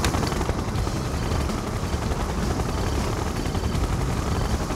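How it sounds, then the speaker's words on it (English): A siege chopper helicopter in the Yuri's Revenge video game gives off a dense, steady rotor roar with a rapid chopping texture, loud and unbroken throughout, with no talk. "Siege chopper checking in."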